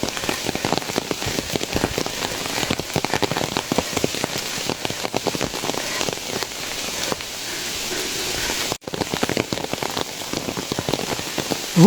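Heavy rain falls steadily across a Qinling mountain ridge lined with arrow bamboo, a dense, continuous hiss of drops on foliage and the surface nearby, with no talking and only a brief dip near the end.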